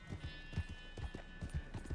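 A horse in the video game Red Dead Redemption 2 walks with a steady rhythmic clip-clop of hooves, soft and muffled, with faint voices in the background.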